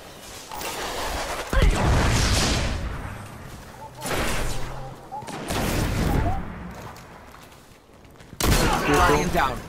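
Gunfire in the game Destiny arrives in several separate loud bursts, each a quick volley of shots, with quieter gaps between them.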